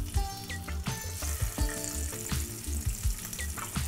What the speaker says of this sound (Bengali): নুন হলুদ মাখানো ডিমগুলো আমি একে একে করে ভেজে নেব